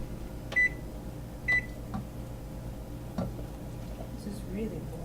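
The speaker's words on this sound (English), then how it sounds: "preheat your oven to 400" A kitchen oven's control panel beeps twice in quick succession, with a short electronic tone about a second apart, while being set to preheat to 400 degrees. Faint background voices and room noise carry on underneath.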